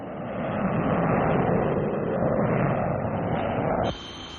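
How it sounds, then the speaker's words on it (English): An English Electric Canberra RAF jet bomber from around 1951 flies past with a loud, steady, broadband roar that cuts off abruptly near the end, leaving a faint high tone. "And now the jet bombers of the RAF are coming along."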